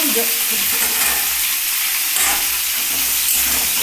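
Bottle gourd pieces and beans fry in a pan while being stirred, a loud, continuous sizzling hiss with scraping stir sounds close up.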